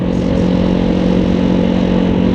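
A steady, loud Halcyon 250 motorcycle engine droning at a constant pace while riding in sunny weather, with no talking.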